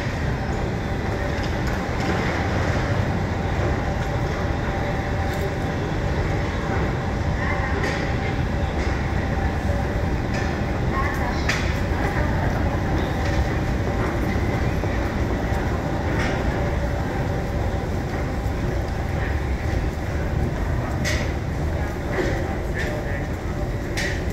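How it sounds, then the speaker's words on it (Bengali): Train noise on a Stockholm railway station platform: a steady, loud rumble of rail traffic fills the whole stretch, with a person speaking over it. "আমি ট্রেনের প্ল্যাটফর্মে দাঁড়িয়ে আছি। আমার ট্রেনটা 6 মিনিটের মধ্যে আসবে।"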